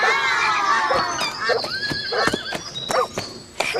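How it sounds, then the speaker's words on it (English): A pony whinnies in a long shrill neigh, then hooves clip-clop in a few crisp steps, close and clear, in a Berenstain Bears children's app. "she showed up riding her pony"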